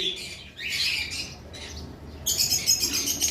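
Caged lovebirds at a bird sale, including a nesting pair, give loud harsh squawks in quick bursts close by, a shrill chattering run at the end.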